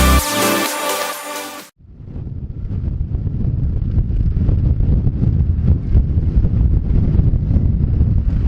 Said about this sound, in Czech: Začíná foukat vítr, tak doufám, že mě to nesfoukne.